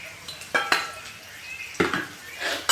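Fried onion and gram flour are stirred in a pan for a peanut bhajiya curry, producing a few sharp scrapes and clatters of a spoon against metal over a low sizzle, close by, with no talking.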